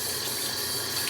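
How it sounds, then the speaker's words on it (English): Hot tap water runs steadily into a pet's water bowl as it is rinsed, a constant close hissing splash with no breaks. "so I just rinse it out with hot water"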